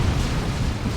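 A plasma cannon firing in Dawn of War 2, a loud, sustained booming blast with heavy low rumble filling the whole second, no speech over it.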